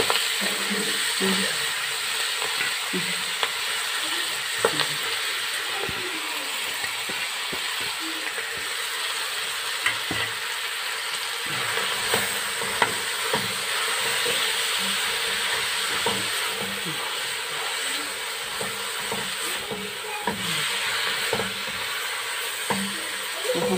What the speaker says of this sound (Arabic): هنحمر فيه ايه سلقه الكرنب اهو، وهحمر ده السلق اهو